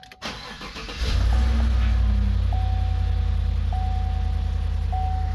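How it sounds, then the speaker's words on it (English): A car engine cranks and catches, then settles into a steady low idle that runs on alone, with a few faint electronic beeps from a diagnostic scan tool over the hum. "let's turn the vehicle on"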